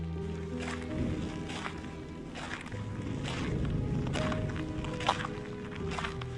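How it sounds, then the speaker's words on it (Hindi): Footsteps in a horror story set in a graveyard at night, an evenly paced series of soft thuds walking steadily beneath a low, droning musical bed. "मुझे वाज़ेह तौर पर किसी के कदमों की आहट सुनाई दी।"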